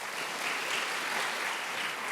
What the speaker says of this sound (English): How about a round of applause and thank you for those folks.